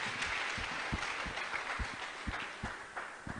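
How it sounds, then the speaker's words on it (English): Congregation in a church clapping hands, a faint, uneven patter of claps spread through the room, sounding moderately distant and continuous for a few seconds. "Clap hands for Jesus."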